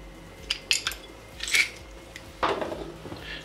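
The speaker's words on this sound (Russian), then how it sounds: "выдавить 2-3-4, в зависимости от вкусовых предпочтений, зубчика чеснока." A few small clinks and clatters of metal and kitchenware as garlic cloves are pressed for a hare soup with vegetables, close and fairly quiet, with brief taps spaced across a few seconds and no talking.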